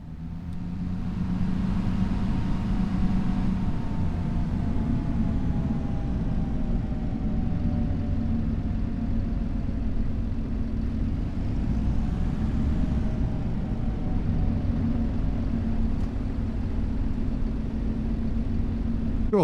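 Tractor engine driving in Farming Simulator 25, a steady low rumbling drone with a faint whine that glides slowly in pitch, continuous and fairly loud with no other sounds.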